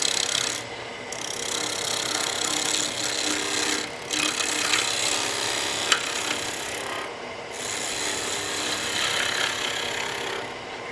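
A skew chisel cuts green wood spinning on a lathe, making a steady rasping, hissing shear that runs continuously with short breaks as the tool lifts off the piece, close and clear without talk.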